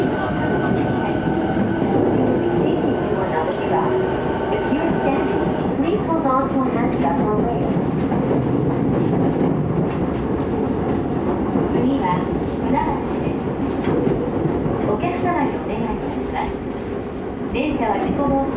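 A JR East E217 series rapid commuter train rumbles and rattles steadily along the track between Ichikawa and Chiba, a dense continuous roar, with an onboard announcement over it.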